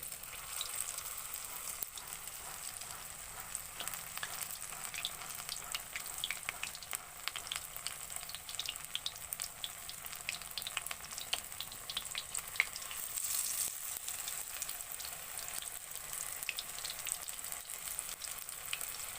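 Battered cauliflower pakoras frying in hot oil, a steady, fairly faint bubbling hiss that continues evenly for the whole stretch with small crackling pops, no voices.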